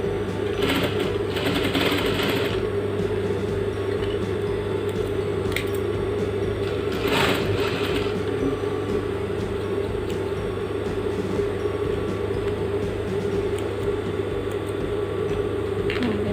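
A sewing machine runs in a steady, continuous whir while stitching a welt pocket with flap on a tailored jacket, a brief louder burst of needle clatter breaking in now and then.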